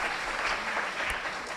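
Audience clapping for school teams at a maths interschools quiz final, a brief burst of dense, even applause from a crowd with no talking.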